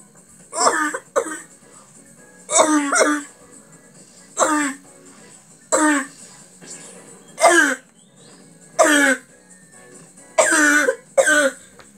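A person coughs repeatedly in short, raspy bursts, roughly eight fits spaced a second or so apart, close and clear with quiet gaps between.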